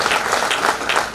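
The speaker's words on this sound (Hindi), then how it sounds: "एक बार जोरदार तालियां बजाकर आप स्वागत करवाएं" Audience applause greeting a visiting Indian government minister at a public gathering in Udaipur, a dense, steady wash of clapping filling the short moment at even loudness with no one speaking.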